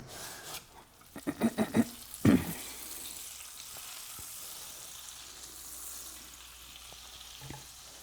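Butter and garlic sizzling in a pan while pasta cooks, a soft steady frying hiss with a few louder clattering stirs and tosses near the start.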